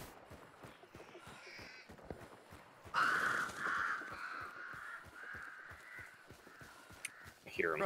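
Crows caw in the Hunt: Showdown video game, a run of harsh repeated calls at mid distance over a steady thud of footsteps, with occasional voices over game audio.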